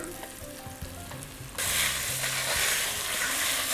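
Green chili, ginger and garlic hit hot ghee with a sudden loud, steady sizzle that sets in partway through, after quieter kitchen clatter and stirring.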